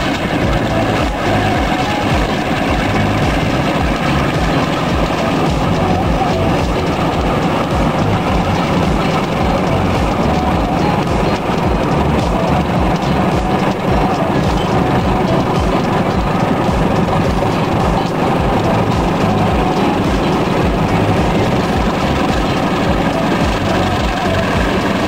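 A GE CC204 diesel locomotive runs on the railway toward Bandung, a loud, continuous low engine drone and rumble with steady vibration and no pauses.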